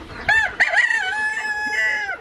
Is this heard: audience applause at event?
no